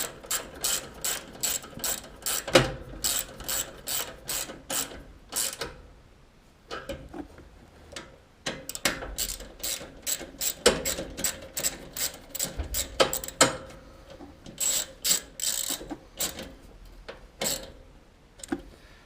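A hand ratchet clicks rapidly while tightening bolts on a riding lawn mower being repaired because it won't start, bursts of fast ticking pawl clicks repeating close up with brief pauses between runs.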